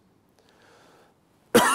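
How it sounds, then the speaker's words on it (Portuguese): A single sharp cough bursts out abruptly after near silence, close and loud. "Dá para cortar essa tosse também?"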